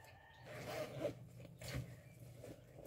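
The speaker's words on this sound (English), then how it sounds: "let's open the big bag." A zipper on a Hello Kitty bag is drawn open in short, quiet rasping pulls, close and soft, with faint background noise and no talk.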